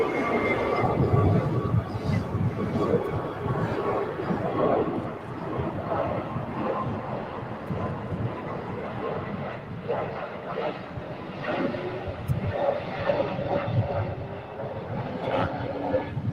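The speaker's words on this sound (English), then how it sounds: "So you got the Neo taking off." An Airbus A320neo airliner takes off from LAX, heard from Imperial Hill as a steady, broad roar that holds throughout, with wind buffeting and people talking faintly in the background.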